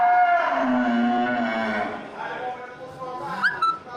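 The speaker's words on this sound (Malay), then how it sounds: "Sapi muda ukuran besar" A young, large Aceh cow moos in one long, loud harmonic call at a busy livestock market, with crowd murmur and a brief whistle-like sound near the end.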